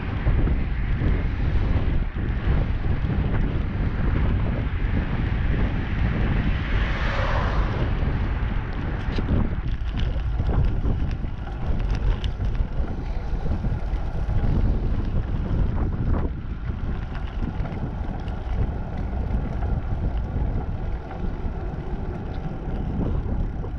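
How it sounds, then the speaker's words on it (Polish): Loud, relentless gusts of gale-force wind roar and buffet the microphone at Dąbie on the Ner river, a continuous rumbling blast with no pauses and no voices. "Wczoraj to był wiatr, dzisiaj to jest wichura."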